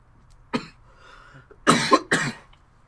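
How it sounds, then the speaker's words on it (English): A few sharp coughs close by, one short burst and then two rough coughs in quick succession, with brief quiet gaps between. "Cough, cough!"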